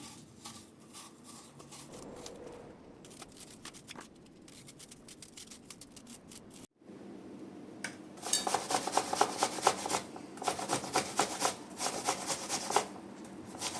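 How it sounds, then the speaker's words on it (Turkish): Peeled apples rubbed on a hand grater in a home kitchen: rasping scrapes that start soft and sparse, then grow into faster, louder back-and-forth strokes. "elmaların hepsini rendeledim"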